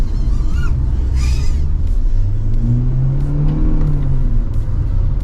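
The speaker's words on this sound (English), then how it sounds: "So far it's a very smooth engine, and it does handle really well." Engine of a 2025 Mitsubishi Xforce subcompact SUV while driving on a test track, a steady close rumble with rising revs and tyre and road noise, no talk.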